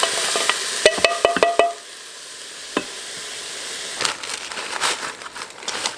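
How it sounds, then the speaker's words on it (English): Tomatoes tipped into an Instant Pot with chili powder already in it: a quick run of sharp clicks and clatter, then soft sizzling and stirring rustle that fades in and out. "I'm going to add in our tomatoes."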